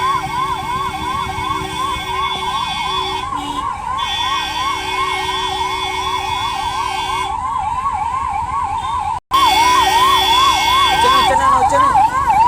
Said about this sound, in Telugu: చూడండి ఫ్రెండ్స్, అంబులెన్స్ వస్తుంది